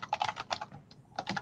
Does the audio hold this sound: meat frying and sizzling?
no